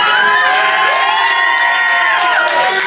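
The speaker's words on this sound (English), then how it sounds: "let me hear your cheer" A crowd at a rap battle event cheers loudly for the other contestant, with sustained shouting and whooping at steady high volume throughout.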